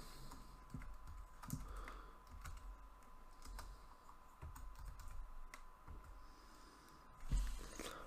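Keys clatter on a computer keyboard as someone types out lines of Java code, irregular bursts of quiet taps with a slightly louder clack near the end, close and alone.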